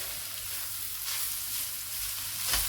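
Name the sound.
minced pork frying in pan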